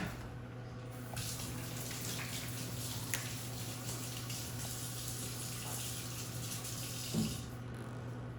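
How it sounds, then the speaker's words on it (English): A kitchen tap runs steadily for about six seconds as hands are washed at the sink, a faint, even water rush that starts and stops cleanly over a low background hum. "I'm gonna wash my hands."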